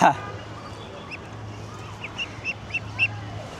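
A duck that fell is pulled back up, letting out a short run of about five soft, evenly spaced quacks after an opening thump, over a faint low background hum.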